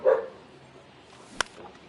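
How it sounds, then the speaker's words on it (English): A dog barks once, short and muffled, in the baseball video game MLB The Show, followed by a sharp click and low background hum, with no talking. "oh my God, these dogs are crazy."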